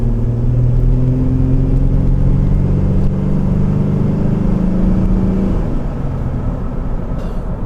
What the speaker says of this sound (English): the exhaust actually sounds really good